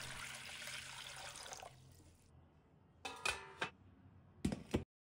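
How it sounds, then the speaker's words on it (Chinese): Clean water pours from a stream into a cooking pot, a steady splashing rush that cuts off partway. A few short splashes and pours follow, close and fairly loud. "接着起锅，倒入清水"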